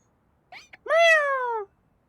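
A cat Pokémon in the video game Pokémon Legends Z-A gives a single clear meow, preceded by a couple of short chirpy sounds, close and alone against silence.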